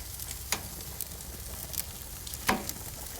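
A steak sizzles steadily on a hot grill with a constant close hiss, broken by a few sharp crackles and pops.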